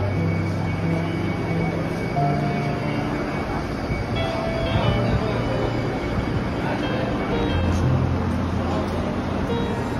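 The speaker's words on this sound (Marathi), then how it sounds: "फाइनली अपनी ट्रेन आ ली है।" A passenger train pulls into a station on a journey from Kalyan, with a steady loud rumble of wheels and wagons throughout and faint background voices.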